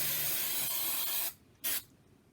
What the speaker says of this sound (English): I just grab some inexpensive hairspray and just spray it